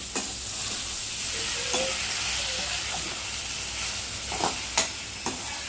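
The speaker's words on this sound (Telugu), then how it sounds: "ఇవన్నీ మగ్గనిచ్చి పేస్ట్ అయితే తయారు చేసుకున్నాము" A paste of onion, tomato, mint and coriander sizzles and hisses steadily in a pan. A spoon scrapes and stirs it in a few distinct strokes near the end.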